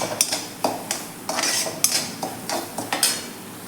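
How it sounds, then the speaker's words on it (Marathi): Semolina dry-roasting over a low flame, stirred continuously with a spatula: steady metallic scraping and tapping against the pan roughly twice a second, close and clear with no voices. "एक सारखा पलास हलवत राहायचा आहे आणि बारीक गॅसवरती आपल्याला हा रवा खरपूस असा छान एक ते दोन मिनिट फक्त फ्राय करून घ्यायचा आहे"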